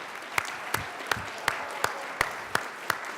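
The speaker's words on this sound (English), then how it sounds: "And the crowd goes wild." Audience applause at a jazz tribute concert honoring a jazz trio, a sparse crowd clapping with distinct, evenly spaced claps standing out over a soft wash of hands.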